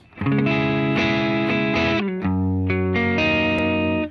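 Heavily distorted electric guitar chords ring out loud and sustained through an amp with the gain knob turned all the way up, a few strummed changes played alone.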